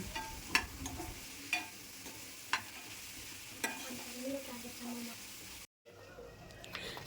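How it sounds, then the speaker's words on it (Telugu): Onions frying in a pan with turmeric for mutton kheema, a soft sizzle with several sharp stirring clicks from a spoon, fairly quiet and close, cut by a brief silent gap near the end. "ఉల్లిపాయలు వేగుతుండగానే 1/2 స్పూన్ పసుపు వేసి వేయించుకుందాం"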